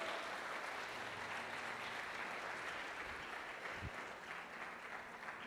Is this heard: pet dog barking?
no